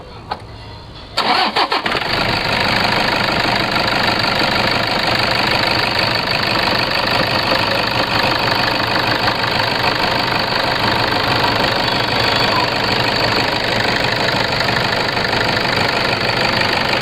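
A used Toyota Innova V version engine cranks briefly and catches, then settles into a loud, steady idle with a slightly knocking rumble that runs unbroken for the rest of the clip.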